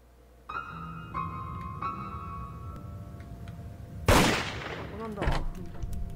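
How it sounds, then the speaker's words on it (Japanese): A gunshot signals the start of a round of Murder 4 in VRChat: one sharp, loud crack rings out partway through, amid quieter game sounds, faint thuds and tones. "開始の銃声。"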